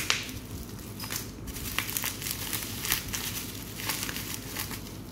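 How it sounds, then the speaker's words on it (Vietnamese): A box of Clay Wax men's hair styling wax is unwrapped by hand, giving continuous close crinkling and crackling of packaging that rises and falls for several seconds with no talk. "Mình bóc ra cho các bạn xem nhé."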